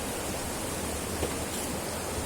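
Fast-flowing river water from the Kolli Hills courses through forest near Puliyamcholai, producing a dense, unbroken rushing roar at steady loudness, close and continuous, with no talking.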